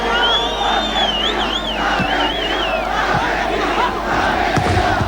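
A boisterous football crowd in Paysandu cheers Argentina against Chile at the 1995 Copa America, a loud continuous roar with whistles and chanting that never lets up.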